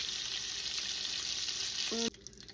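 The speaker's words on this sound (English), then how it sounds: "we're almost done with searing our meatballs" Steady sizzling of meatballs frying in hot oil, loud and continuous, ending abruptly with a short clatter.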